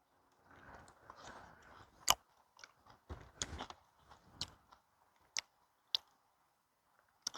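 Someone chews a freshly picked mandarin from a cocktail citrus tree, making soft, wet, close-up mouth sounds with a few sharper clicks spread irregularly between quieter moments.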